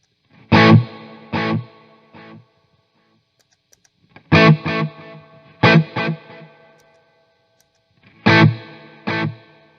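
An electric guitar plays short distorted chord stabs through a Hughes & Kettner solid-state amplifier with a tapped-tempo delay, each hit repeating in fading echoes, in three separated groups with silence between.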